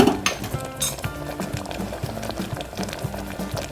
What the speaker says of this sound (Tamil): பருப்பு தாளிச்சுட்டு இந்த அளவுக்கு கொதிச்சிருச்சு